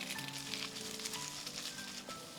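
Green onion whites frying over low heat in homemade chili oil made from chili flakes, giving a steady close sizzle that continues throughout with no talking.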